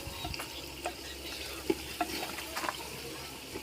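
Shinwari karahi with onions, chillies and tomatoes cooking in a handi pot, sizzling and frying steadily with a few close stirring knocks and scrapes, and a faint voice in the background.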